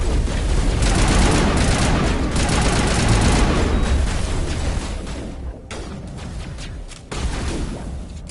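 Heavy automatic gunfire in a Mass Effect Legendary Edition firefight rattles in loud, rapid bursts for several seconds, then thins into sparser shots and short pauses.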